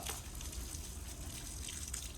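Water splashes and gushes in a steady stream as cows are bathed in a village, a faint continuous watery wash with no breaks.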